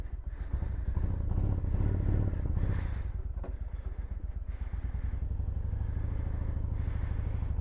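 Small beat-up motorcycle ridden on the road, its engine putting out a steady rapid close putter that rises slightly and then holds through the ride, with some rattling.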